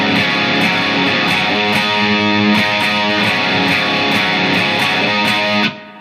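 Distorted electric guitar chords strummed continuously with no gaps between them, loud and sustained for several seconds before cutting off.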